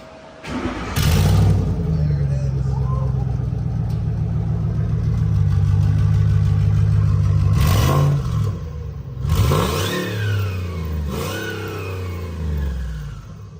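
A Ford F-150 pickup with an exhaust leak runs close by, its engine holding a steady loud idle-like drone before being revved several times in rising, falling surges.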